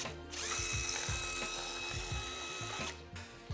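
An old drill-driver with a small bit reaming out a hole, a continuous whining motor with a rhythmic grinding pulse as the bit chews through, starting and stopping abruptly, close and fairly quiet, no talking.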